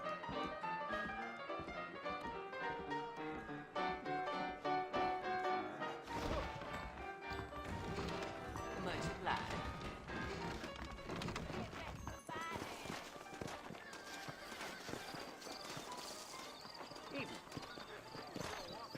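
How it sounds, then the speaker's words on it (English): Horses trot with a steady clip-clop in the Western video game Red Dead Redemption, a whinny breaking through now and then, all under a dense orchestral score and voices talking. "I got the horses saddled up and ready out front."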